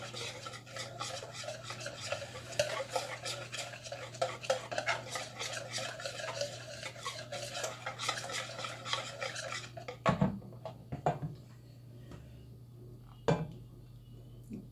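Eggs stirred into chocolate pie filling during tempering: a close, steady rhythmic scraping and stirring against the bowl that runs for about ten seconds, then stops, leaving a couple of light knocks.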